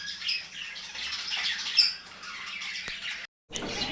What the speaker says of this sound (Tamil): சில பேர்ட்ஸ் வாங்கிட்டு வந்துருக்கோம் நம்ம ஃபார்முக்கு.